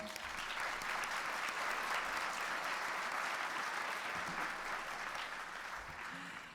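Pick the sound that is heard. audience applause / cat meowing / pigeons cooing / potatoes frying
audience applause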